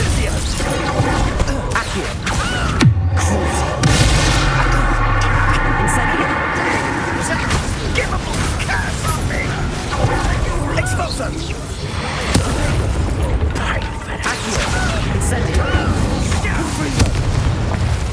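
Incendio fire spell blasts in Hogwarts Legacy on PS5, loud booming bursts over dense game music and effects, with a sharp impact near the start.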